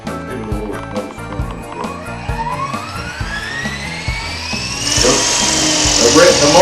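A Blade 400 RC helicopter's electric motor spins up in a garage with a soft start, its whine rising steadily in pitch and growing louder over several seconds amid rhythmic mechanical ticking.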